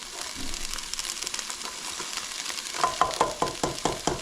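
Onion tossed into a pan of half-softened peppers sizzles steadily, with scraping stirs and crackling bursts growing louder toward the end, close by and with no talking.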